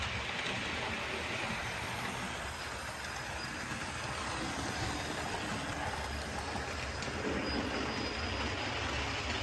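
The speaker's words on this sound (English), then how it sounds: "And there's an axle squealing on that train somewhere too." A model train, a locomotive pulling a tender, rolls steadily along a layout with a continuous rumble, while a thin, faint high-pitched squeal from a dry axle persists throughout.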